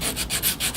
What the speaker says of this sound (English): I've gone over the entire grip really with this 180 wet.